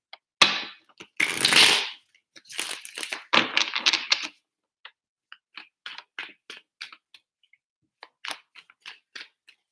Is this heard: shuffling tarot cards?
yes